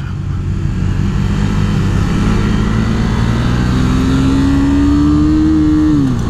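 A KTM Duke 390 motorcycle pulls in low gear, its engine drone loud and steady while the pitch climbs slowly and evenly across the pass, then eases slightly at the end.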